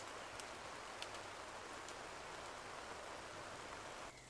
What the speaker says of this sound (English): It's absolutely tipping a rain and windy